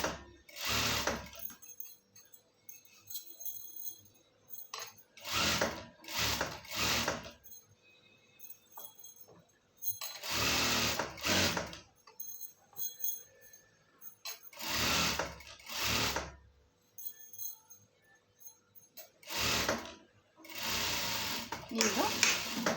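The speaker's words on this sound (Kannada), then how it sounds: "ಓವರ್ಲಾಕ್ ಮಾಡಲಿಲ್ಲ ಅಂದ್ರೂ ಡಬಲ್ ಸ್ಟಿಚ್ ಮಾತ್ರ ಎಲ್ಲ ಕಡೆ ಹಾಕಬೇಕು ಪ್ಯಾಂಟಿಗೆ" A sewing machine double-stitches a pair of pants in a string of short, rapid bursts, each a few seconds long, with a voice talking in the pauses between runs.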